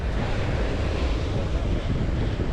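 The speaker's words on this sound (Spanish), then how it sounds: "estas olas no tienen nada que ver con las de ayer de Playa Mar" Ocean surf and strong wind at Playa Mamitas beach in Playa del Carmen, a steady, loud roar of breaking waves mixed with gusty wind buffeting the microphone throughout, with no voices.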